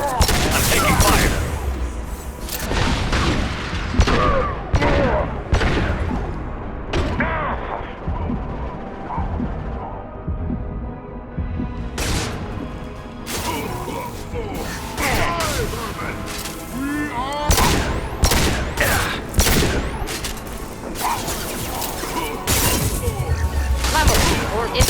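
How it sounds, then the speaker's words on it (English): Gunfire bursts and impacts from the sci-fi shooter Mass Effect 2, loud and frequent across the stretch, with dense rapid volleys mixed with in-game voices and mechanical clatter. "I'm taking fire."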